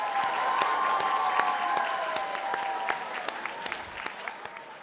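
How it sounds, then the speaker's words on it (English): Audience at a school board meeting applauding students, a sustained crowd clap that gradually thins and fades toward the end, with a faint tonal hum beneath. "So big round of applause."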